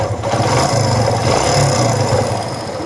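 A car engine idling steadily in neutral just after being restarted, a close, continuous mid-pitched rumble that holds fairly even throughout without revving, with no voices over it.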